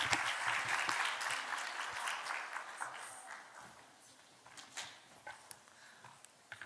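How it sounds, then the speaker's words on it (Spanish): Applause from a business summit audience, strongest at the start and thinning into scattered individual claps toward the end. "Démosle un fuerte aplauso a Claudia Herrera Moro."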